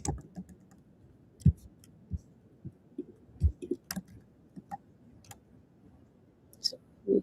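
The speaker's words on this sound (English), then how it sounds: "So I'm typing" Keys tap on a computer keyboard in sparse, irregular clicks, quiet and near, with a few louder keystrokes and no talking.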